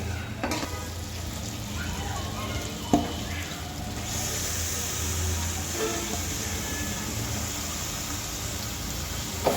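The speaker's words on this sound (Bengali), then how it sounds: "দিয়ে দিলাম আলু কিছু টাইম কষিয়ে নেবো" Potatoes sauté in a pot for pulao and meat, a steady low sizzle with occasional sharp clicks of a utensil against the pot, continuous and fairly quiet, with no talk.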